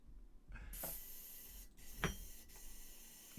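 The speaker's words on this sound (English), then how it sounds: "Just spraying the Windex out." Windex glass cleaner spritzed from a spray bottle during model painting: a few short, quiet hissing bursts with faint trigger clicks, spaced irregularly over a low background hum.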